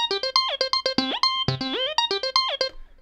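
A Roland TB-3 synthesizer runs a quick sequenced pattern of squelchy, pitch-sliding acid bass notes, close and rhythmic with no talk over it.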